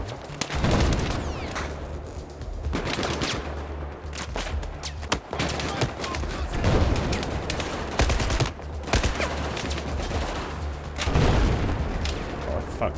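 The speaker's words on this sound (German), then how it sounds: "Scheiße, ich werde beschossen!" Dense, continuous gunfire and booming explosions in Battlefield 4, with rapid bursts and heavy impacts layered throughout, loud and close, while a player talks over the battle.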